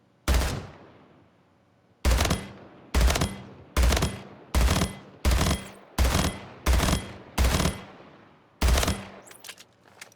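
Battle rifle fire in the video game Splitgate: a single shot, a pause, then eight evenly spaced loud, sharp shots, each with a short ringing decay.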